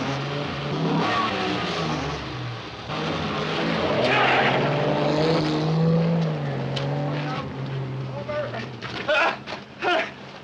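Car accelerating in a 1957 film scene, engine note swelling and revving under shouted voices, with loud rising drone mid-clip and choppy bursts near the end.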